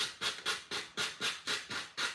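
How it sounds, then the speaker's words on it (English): Sandpaper rubs back and forth over dry modelling clay, a quiet, rhythmic scratching of about eight even strokes in quick succession, close and alone. "Now, you can't sand wet clay."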